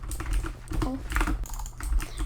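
Fingers typing a server command on a computer keyboard during a Minecraft-style server session, with quick irregular clicks of the keys close to the microphone and no talk.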